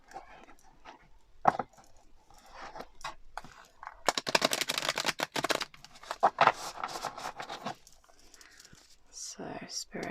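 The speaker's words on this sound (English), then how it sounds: "Just going to give this one more shuffle." Tarot cards shuffled by hand in a quiet room, a dense burst of riffling flutters in the middle followed by softer scattered card handling and rustles.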